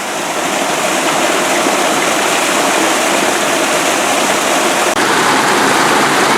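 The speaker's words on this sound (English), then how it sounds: "I am looking at moisture pouring down from the top of the thing." Water pours down steadily from above like a waterfall, a dense, continuous rushing hiss that stays loud and even throughout, with no voices.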